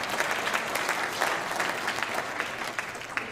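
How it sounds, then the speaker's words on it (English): An audience at a public meeting in East Palestine, Ohio claps steadily throughout, a dense, even wash of applause from many hands with no voices standing out. "Can we have a round of applause for them,"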